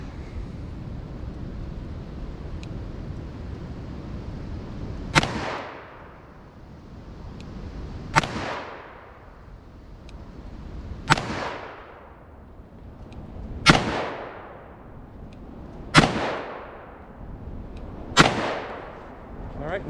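Six loud, sharp revolver shots from a Smith & Wesson 686 firing .357 Magnum rounds at a 10-yard target, spaced two to three seconds apart, each with a ringing decay over steady background noise.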